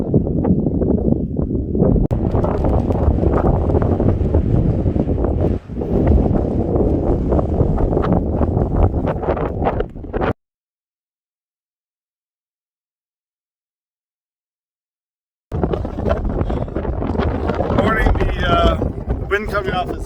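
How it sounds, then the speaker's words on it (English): Strong wind roaring and buffeting a microphone on a mountain ridge along Corsica's GR20 trail, loud and continuous with gusty rumbling, cutting out briefly to silence before resuming just as harsh. "The wind coming off this ridge is really quite something. It must be in the 50-60 kilometer range, and it blows you around quite a bit."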